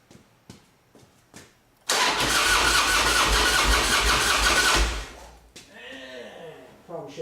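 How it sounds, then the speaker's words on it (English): A custom Harley motorcycle engine cranks and fires at once, then settles into a loud, rough idle for about three seconds before dropping back. Faint voices and clicks come before it, and brief talk follows. "we're going to go ahead and fire the bike up"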